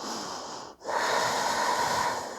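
A slow, deep breath during a yoga heart chakra chest-opening stretch, heard close and soft with a brief pause between exhale and inhale.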